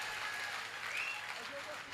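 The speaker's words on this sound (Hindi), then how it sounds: "तालियां खड़े होकर एक बार हाथ खड़े करके बजाओ साहब" An audience at a Hindi poetry gathering claps in a steady, crowd-wide wash of applause, with a voice talking over it.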